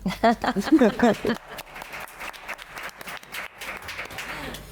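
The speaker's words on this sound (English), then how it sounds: "Round of applause." Brief applause from a conference audience welcoming a panelist at a link building panel, fairly light clapping following a voice at the start.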